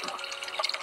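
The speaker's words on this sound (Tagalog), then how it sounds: "yung tubig na pinag-ano ni Arjen ay galing sa bundok" Water piped from a mountain spring runs and splashes from an outlet, a short, close burst of bubbling, trickling flow with no voices.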